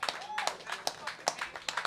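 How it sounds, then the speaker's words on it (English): An audience at a live show claps in short bursts of scattered hand claps, fairly close, alongside a speaking voice. "That deserves some fucking claps."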